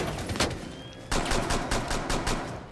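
Gunfire in the Rainbow Six Siege video game: a steady run of sharp broadband shots in even rhythm, one early burst, a short gap, then several evenly spaced reports, close and loud with no talk.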